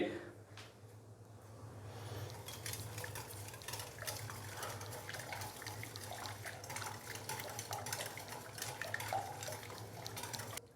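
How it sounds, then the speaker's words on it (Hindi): Chicken pakora ingredients with garlic paste are stirred in a bowl. The wet squelching and scraping is steady and close, with occasional clinks of utensil against bowl. "तो अभी हम इन सारी चीज़ों को पहले अच्छे से मिक्स करेंगे।"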